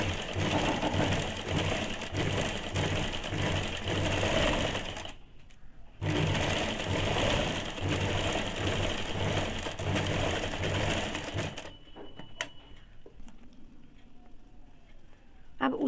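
A sewing machine runs a long continuous stitch on a high-neck blouse, a steady close mechanical whirr that stops briefly, resumes, then cuts out, leaving quieter handling noise.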